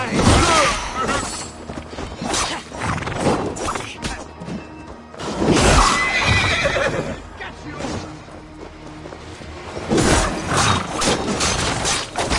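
Horses whinny and hooves clatter amid a busy Assassin's Creed Valhalla game soundscape, with crashes and mechanical clanks; someone talks over parts of it.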